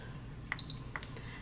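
An Instant Pot pressure cooker beeping as its pressure cook button is pressed, a few short electronic beeps in quick succession, faint over a low background hum with no talk.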